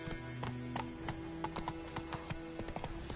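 A horse gallops in The Witcher 3 on PS5, close rhythmic hoofbeats pounding steadily at a moderate level, with a brief whinny mixed into the fast clip-clop.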